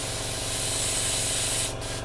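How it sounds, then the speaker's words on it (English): An airbrush sprays paint onto the inside surfaces of a Tamiya 1/48 F-16 Falcon model kit, giving a steady, close, airy hiss that holds for about two seconds before briefly cutting out near the end. "all we're going to do is spray the insides."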